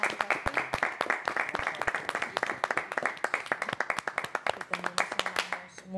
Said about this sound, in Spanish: que le dediquemos un aplauso a la maestra Diana, a la maestra Laura, al profe Ethan, a la profe Gaby.